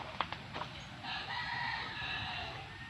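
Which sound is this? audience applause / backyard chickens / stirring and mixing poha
backyard chickens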